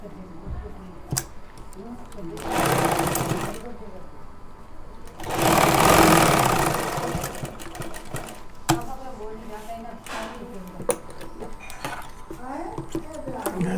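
A sewing machine stitches a kurti in two steady bursts of rapid whirring, each a few seconds long, with quieter handling noise and snipping between runs.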